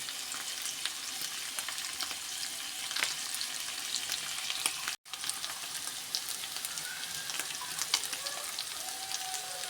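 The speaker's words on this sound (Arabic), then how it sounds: "غنخليوها تقلى شويه وعاد غنضيفوا عليها هذاك البيض" Spices and seasoning for a Moroccan potato and egg dish fry in a pan with oil, giving a continuous close sizzle and crackle that runs steadily throughout, broken only by a very brief gap midway.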